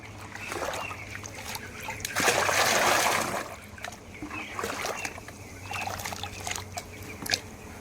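Water is stirred and sloshed in a bucket while being mixed for chicken drinkers, with close splashing that surges loudly for a moment before settling into softer, intermittent swishes.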